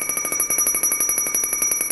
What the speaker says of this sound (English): Once the low air alarm activates, that signifies your bottle's at 1/3 filled